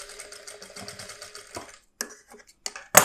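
Sewing machine stitching a blouse back: a steady rapid whir of stitching that stops midway, followed by a few short clicks and a final sharp knock, close and clear with no talk.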